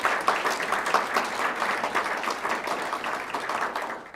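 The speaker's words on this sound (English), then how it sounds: "if you would give a shout out and applause to them" A roomful of guests at a Sedgwick County oath of office ceremony applauds family members, a sustained, fairly close patter of many hands that stays steady before easing off at the end.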